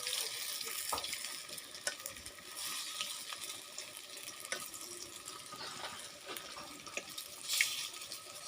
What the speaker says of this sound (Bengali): এই যে হলো আমার বড়া ভাজা